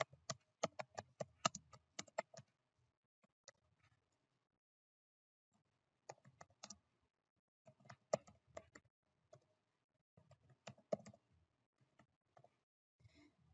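Keys clatter on a computer keyboard as text is typed into a presentation slide, in quick close bursts separated by short pauses, with no talk.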